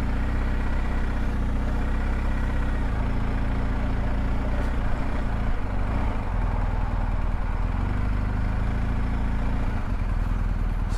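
A BMW GSA 1250 motorcycle engine setting off from a car park, a loud, steady low rumble throughout with no talking.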